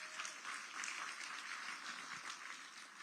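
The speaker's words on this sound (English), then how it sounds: "give them a round of applause" Clapping from a small room audience at an evening gathering, quiet and distant-sounding, a light patter of hands continuing steadily for a few seconds.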